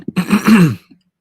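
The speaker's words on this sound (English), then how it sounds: "Just trying to let me clear my throat." A man clears his throat with a short rough rasp followed by a longer gravelly grunt, close and loud.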